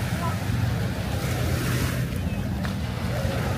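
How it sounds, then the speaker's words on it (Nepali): Water surges and washes up a shore at sunset, a steady loud rushing wash mixed with wind buffeting the microphone, constant throughout the short stretch. "पानीको छचलको ल माथिसम्म आइपुगेको छ।"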